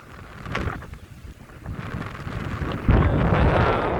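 Strong wind buffets the microphone on a Korean seashore during an autumn storm, with rain driving in. The gusts rise and fall, then swell into a louder, rougher blast near the end, and no one speaks.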